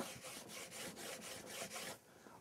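Wax being rubbed back and forth across the wooden sole of a hand plane, a quiet, close rasping scrape repeated in about eight steady strokes before it fades.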